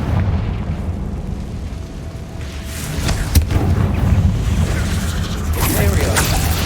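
Confringo blasting spell from the Hogwarts Legacy video game, loud explosive bursts and sharp pops over a rumbling battle din, with a few crisp impacts standing out near the middle.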